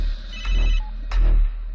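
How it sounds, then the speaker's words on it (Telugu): A phone ringtone goes off in a Telugu action film scene, two loud electronic ringing bursts separated by a short gap, with no talk over them. "ఫోన్ వస్తుంది చూడు, లిఫ్ట్ చేయి."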